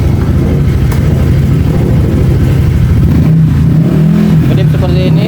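Honda Vario 150 scooter with an engine running in a loud, steady drone close up, a faint rise in pitch partway through, and a voice speaking over it.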